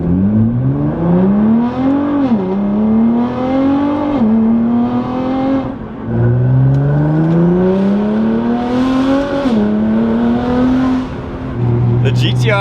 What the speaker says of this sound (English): The GTR straight pipe is one of the best sounding cars out there.